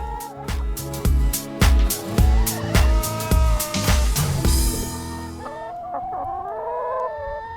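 Chickens cluck close by in a quick, steady rhythm of sharp bursts, followed by a drawn-out crow-like call that trails off.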